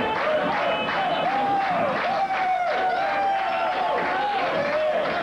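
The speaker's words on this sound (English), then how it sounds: "The crowd is cheering on Joe German Sr." A crowd cheers and claps steadily at a bowling shootout, a sustained roar of voices and applause filling the arena, with a voice speaking over it.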